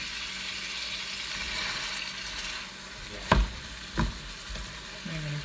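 Thawing ground hamburger meat sizzles steadily in a pan as it is stirred and broken up, with two sharp utensil knocks against the pan cutting through the close, constant frying hiss.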